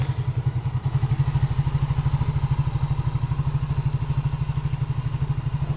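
A Yamaha Mio J motorcycle engine runs with the valve cover off during repair for smoking, a loud, close, steady idle with a fast, even low-pitched putter throughout.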